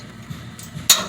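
A single sharp metallic strike near the end as a center punch is hit into steel for a dump body hinge, preceded by quiet workshop background.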